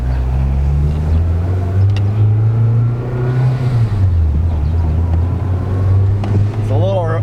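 JDM Honda Civic Type R with an upgraded clutch drives along, its engine a loud steady drone that rises and falls with throttle, while a person talks over it from the cabin.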